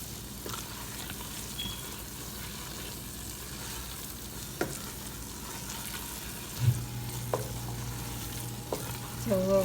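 Onions with berbere sauté in a pan for Ethiopian doro wot, a steady low sizzle with occasional stirring clinks and scrapes, quiet and continuous.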